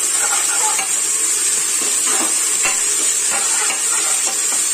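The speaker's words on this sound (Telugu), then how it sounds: "బాగా వేయించుకోవాలి పచ్చివాసన అయ్యేంత" Ginger garlic paste frying in oil in a pressure cooker while making chicken biryani, a loud continuous sizzle close by with a steady hiss and occasional spoon scrapes against the metal.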